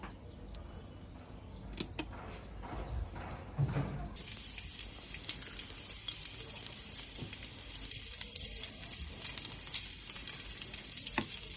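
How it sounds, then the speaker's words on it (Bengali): Garlic and dried chilies are tempered in hot oil for beef haleem, giving a soft, continuous sizzle with occasional stirring clatter, fairly faint and close. "এখন একটা বাগার দিব রসুন আর শুকনো মরিচ দিয়া"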